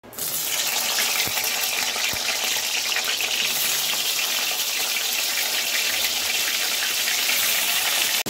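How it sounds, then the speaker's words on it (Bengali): Pieces of pointed gourd fry in mustard oil in a kadai, giving a loud, dense, unbroken hiss close by, almost like running water, with a couple of faint knocks early on. "এর মধ্যে সরষের তেল দিয়ে দেবো, দিয়ে পটলগুলো ভেজে নেব"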